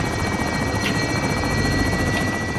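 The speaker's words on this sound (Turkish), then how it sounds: "Helikopter geldi." A helicopter arrives in the video game Call of Duty Warzone, its steady loud rotor beating and engine buzz filling the whole stretch without pause.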